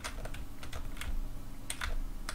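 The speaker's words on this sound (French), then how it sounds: "Ça se joue avec les flèches du clavier" Computer keyboard arrow keys tapped in quick, irregular bursts while playing the indie game Killer, close and fairly quiet, with no talking.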